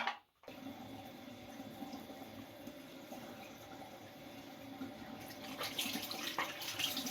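Tap water running steadily into a sink while a face is rinsed after cleansing, a continuous close splashing hiss that grows slightly busier toward the end.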